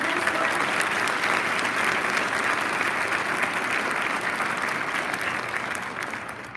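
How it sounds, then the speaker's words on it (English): Dense, steady applause for student speakers fills a graduation ceremony hall, many hands clapping loudly and evenly before easing slightly at the end. "Let's give them one more round of applause."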